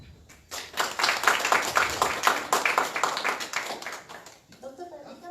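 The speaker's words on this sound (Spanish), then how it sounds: "Demos un fuerte aplauso al doctor Jorge Alberto de Amat Peralta." Seminar audience applauding at a legal update session in Moquegua, a dense burst of clapping lasting about four seconds before fading out.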